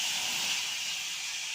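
Half a bowl of water hitting a hot wok (kadai) while making sesame khaja gives a steady, loud broadband hiss of steam that holds evenly for the whole short moment, with no voices.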